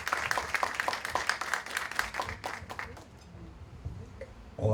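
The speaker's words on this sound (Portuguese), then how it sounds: "Aplausos!" Audience applause at an evening presentation event, dense clapping for about three seconds before fading into a quiet room, with a brief louder bump at the very end.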